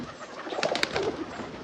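Doves belonging to a neighbour coo nearby in a short, soft burst of rounded, throaty calls over faint outdoor ambience.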